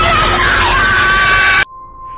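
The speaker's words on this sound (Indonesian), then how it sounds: "hantu ASI pun berteriak" A female ghost's long, piercing scream in an Indonesian horror film, loud and sustained for over a second before cutting off abruptly to near silence.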